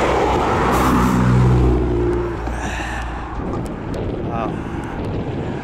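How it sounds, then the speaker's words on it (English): Cars passing on a quiet road over the old Runcorn transport bridge, a broad low rumble swelling and fading with wind buffeting the microphone and speech-like sounds mixed in. "there's only a few cars going up and down it"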